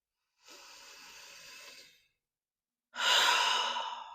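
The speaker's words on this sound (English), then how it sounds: "I first want you to take some deep breaths right now." Two slow, deep breaths taken close to the microphone, a softer airy inhale followed after a pause by a louder, rushing exhale.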